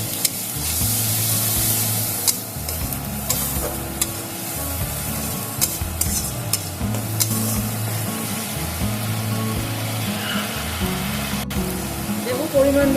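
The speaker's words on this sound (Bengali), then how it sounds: "এবার দেবো গ্রেট করে রাখা টমেটো, এটা ভালো করে কষিয়ে নেব।" Grated tomato cooks down in a pan for a spicy Bengali pabda catfish curry, giving a loud continuous sizzle with repeated stirring scrapes, under steady background music.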